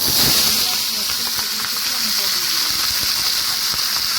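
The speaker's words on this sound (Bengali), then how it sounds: "এখন ভাজবো পেঁয়াজ কলি আলু ভাজা" Potatoes and spring onions frying in a pan with black cumin and dried red chilli give a steady, loud hiss of sizzling oil that runs unbroken through the whole stretch, with no talk.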